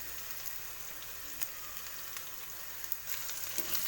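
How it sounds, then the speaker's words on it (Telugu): Chopped carrots frying in a pan, a steady soft sizzle with faint crackling pops throughout, no talking. "క్యారెట్లు కూడా కొంచెం ఫ్రై అవ్వాలండి."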